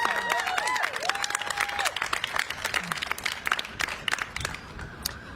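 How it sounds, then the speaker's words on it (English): A crowd claps steadily in a room at a Pride Month flag raising ceremony, a dense patter of applause with a few brief cheers and voices mixed in. "let's give a round of applause for Danina Mienzo."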